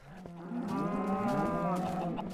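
Cows moo on a Minecraft cow farm with a double piston extender, several overlapping drawn-out calls merging into one loud, close chorus that lasts about two seconds without speech.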